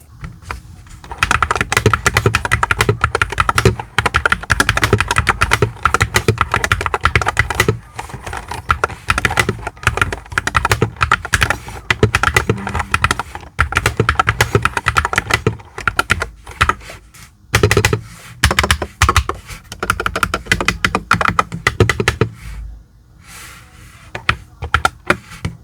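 Typing on an AKKO TAC75 HE Hall effect keyboard: rapid, continuous keystroke clatter in uneven bursts with short pauses, close and loud, no talking.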